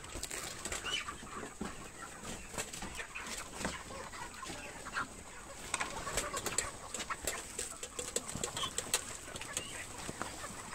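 Broiler chickens packed in a vehicle give a steady mass of soft clucks and peeps, with scattered flapping and shuffling under a constant high insect-like hum, fairly faint and continuous, no voices.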